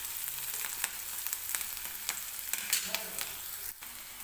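Chopped onion frying in a pan until soft for poori bhaji, a soft, even sizzle close by with occasional light taps and scrapes of a spoon.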